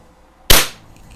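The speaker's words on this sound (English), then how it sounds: "I'm just kind of pointing and shooting." A BSA Scorpion air rifle fires a single sharp shot close by, a sudden crack with a short fading tail, set against a quiet background.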